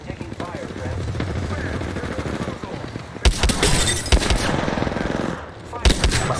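Rapid bursts of close automatic gunfire from an Apex Legends match, including an RE-45 pistol, hammer away almost continuously, with sharper, louder volleys in the second half.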